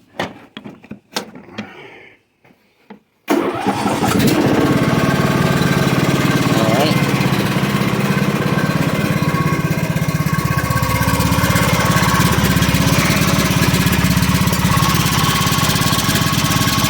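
A John Deere LA115 riding mower with a 19.5 hp Briggs and Stratton engine cranks and starts after a few quiet clicks, then runs loud and steady at a rough, constant idle close by.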